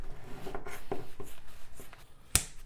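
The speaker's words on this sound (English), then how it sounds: "I'm going to grab a nice good pair of scissors, and I'm just going to estimate my center point, and then I am just going to cut right down the center." Scissors snip through a paper rectangle down its middle in a run of short, close, fairly quiet cuts, with one sharp louder click near the end.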